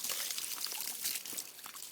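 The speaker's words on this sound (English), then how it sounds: "Here, put some water on my hand." Water pours steadily onto a sweaty hand while a horse is being cooled down, a close, continuous splashing trickle with no talk.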